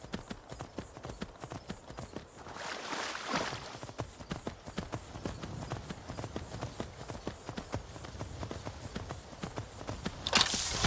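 Horse hooves of a ridden horse in the video game Skyrim: a steady, quick clip-clop of hoofbeats, close and moderately loud, continuing throughout with a brief sharper burst near the end.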